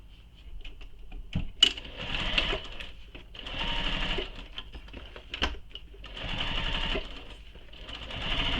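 A sewing machine bastes a bowler bag in several short bursts of stitching between quiet pauses, with a few sharp clicks and knocks from handling, close and fairly soft.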